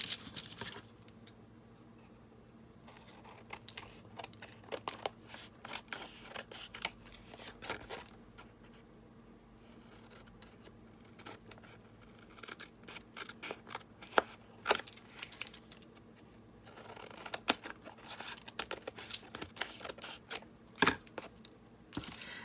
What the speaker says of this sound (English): And then I cut the back here.